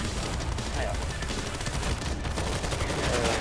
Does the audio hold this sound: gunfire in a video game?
yes